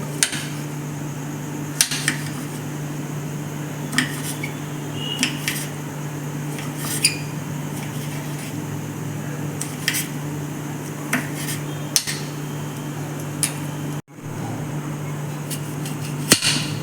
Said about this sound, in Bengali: এবার হাফ টমেটো কেটে নিলাম